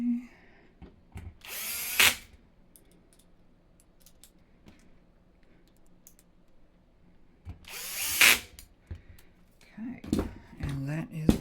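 Power drill driving screws into the gantry of a Qidi Q1 Pro 3D printer during a rebuild: two short, loud whirring bursts a few seconds apart, close up, with quiet handling clicks between and a voice speaking near the end.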